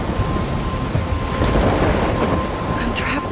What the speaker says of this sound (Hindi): जहाँ पास बहुत ज़्यादा बारिश हो रहा है और बहुत ज़्यादा तूफान हो रहा है